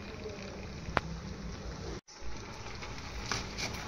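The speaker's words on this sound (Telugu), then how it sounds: "కొంచెం ఉప్పు వేసుకొని బాగా ఉడకబెట్టుకోవాలి" A pot of salted water at a rolling boil, a steady dense bubbling and hiss running close and continuous, broken once by a brief pause partway through.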